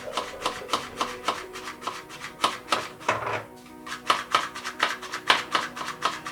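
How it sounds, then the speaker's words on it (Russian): Flour sifted into a bowl for homemade noodles, a rhythmic series of soft rasping shakes and taps of the sieve, close up and fairly quiet, with a brief pause midway. "Так, для начала мы просеем муку."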